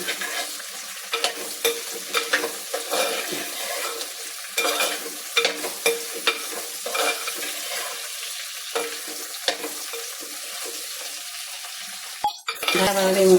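Okra sautés in a pan with a steady background sizzle, while a spoon scrapes and clinks against the pan in repeated close strokes, ending with a louder clatter.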